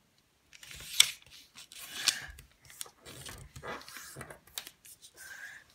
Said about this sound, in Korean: 다음 원하는 색깔이 뒤로 나오게 한 다음 이렇게 절반 접어줍니다